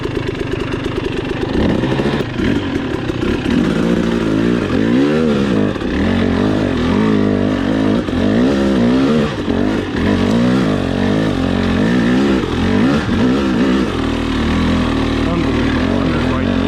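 A 2022 Husqvarna TE 300i two-stroke motorcycle engine runs loud and close, with a rough idle that rises into repeated wavering revs and falls back again.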